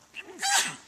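A single short sneeze bursts out close by, preceded by a quick intake of breath.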